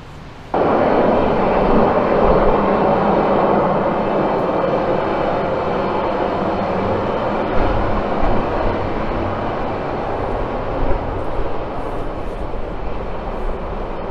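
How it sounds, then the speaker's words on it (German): A freight train rumbles across the Rendsburg railway bridge overhead, a loud, continuous roar that starts abruptly and holds steady for the whole stretch. "hier fahren noch Güterzüge lang und dann ist das richtig laut"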